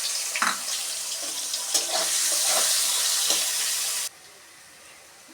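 Chopped onion hits hot oil with cumin for a mutton curry, giving a loud, close burst of sizzling with a few stirring clatters before the frying sound stops sharply.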